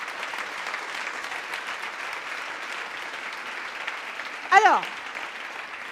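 An audience at a women's event applauds in a sustained, even wash of clapping; a voice briefly cuts in near the end.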